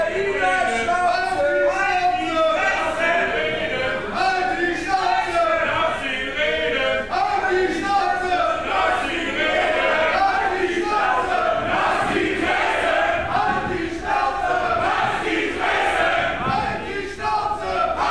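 Wrestling crowd at an independent show, loud and continuous, mixing cheers, boos and chanting into a dense roar that swells and dips with no single voice standing out.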